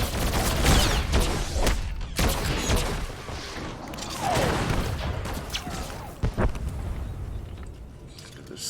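Blaster fire in Star Wars: The Old Republic, a loud cluster of shots and bursts at the start easing into scattered, fainter reports, with a few sharp hits near the end.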